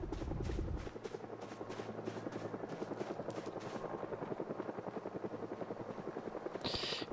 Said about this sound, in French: L'hélico.